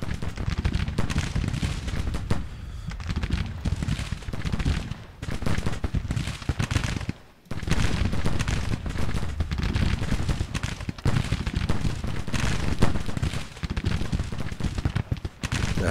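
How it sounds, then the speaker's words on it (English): Civil War artillery and massed musketry in Grand Tactician: The Civil War crackle and boom continuously for about sixteen seconds, dense and loud, with one brief lull near the middle. "might as well order up the artillery"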